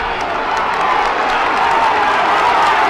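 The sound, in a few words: roar of Laois supporters at football match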